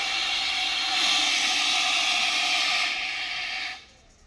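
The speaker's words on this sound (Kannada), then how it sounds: "ಇದನ್ನು ಪುಷ್ ಮಾಡಿದಾಗ ಒಳಗಡೆ ಇದ್ದಂತಹ CO2 ಕಾಟ್ರೇಜ್ ಓಪನ್ ಆಗ್ತದೆ." A loud, steady pressurized hiss blasts from a CO2 fire extinguisher for several seconds, then cuts off abruptly, leaving quiet.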